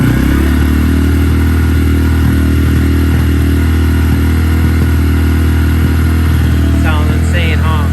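A 2024 Honda Grom motorcycle engine is held at steady high revs, loud and close with heavy clatter and a constant drone, a voice faintly audible near the end.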